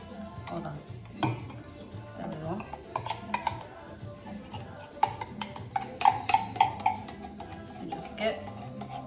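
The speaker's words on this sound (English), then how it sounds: "get all of that out with the spoon" A spoon scrapes sticky condensed milk from a can while making Puerto Rican coquito, giving soft irregular metallic scrapes and clinks up close, with a few sharper taps toward the end.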